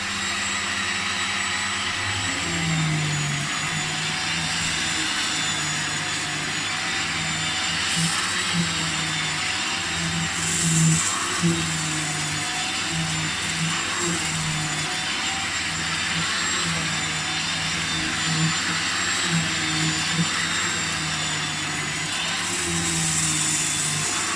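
A 1987 Beko vacuum cleaner runs at full power with a loud, steady motor roar and a high whine, holding a constant drone throughout with small shifts in pitch as it is moved.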